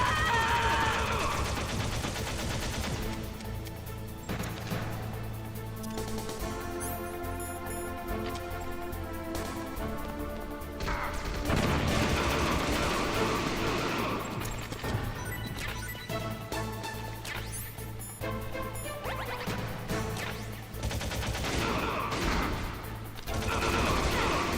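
Rapid bursts of video game gunfire from Metal Gear Solid, loud and continuous with repeated volleys, mixed with game music and voices throughout.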